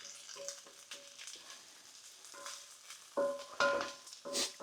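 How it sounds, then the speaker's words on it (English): Onions, peppers and garlic frying in a pan for arroz con pollo, a steady close sizzle with stirring clatters and brief bursts of louder crackle toward the end. "It's getting a nice bit of colour on the onions and on the peppers, more importantly."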